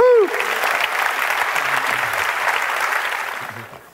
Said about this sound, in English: Okay, so that's worth a clap.